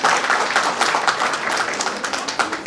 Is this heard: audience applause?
yes